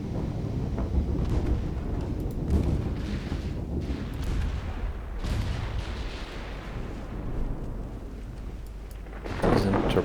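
Naval gunfire in the Ultimate Admiral Dreadnoughts warship game, a continuous rumbling roar of distant heavy guns with scattered booms rolling over one another for the whole stretch, a louder burst near the end.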